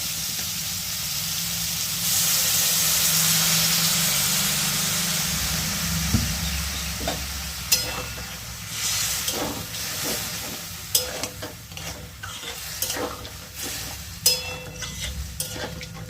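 Water poured into a pan of frying ridge gourd and potatoes, a loud swelling hiss and sizzle close by that settles into steady bubbling, broken by sharp stirring clicks against the pan.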